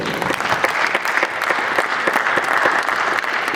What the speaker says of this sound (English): A beautiful round of applause as well.